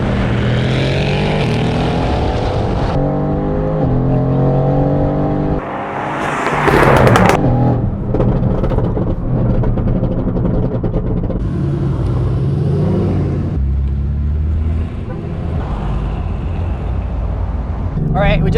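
A straight-piped Mercedes-AMG GT R with downpipes and a Stage 1 tune, cruising slowly through a neighborhood at about 35 mph. Its loud, continuous exhaust drone rises and falls with throttle changes while people talk over it.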